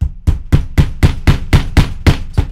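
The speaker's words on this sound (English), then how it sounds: "we are going to use an awl to poke" An awl is pushed through leather to make stitching holes, giving nine sharp, close knocks at a steady rhythm of about one every quarter second.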